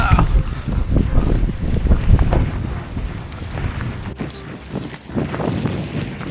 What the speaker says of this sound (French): y a du vent et il pleut.